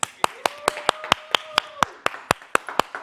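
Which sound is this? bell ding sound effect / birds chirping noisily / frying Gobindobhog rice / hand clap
hand clap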